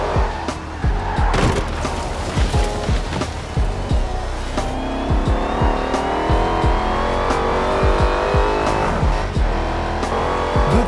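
Race car engine in Forza Horizon 4, tuned with weight reduction, revving loud and continuous with rising gear sweeps, punctuated by sharp clicks and bursts of tire noise throughout.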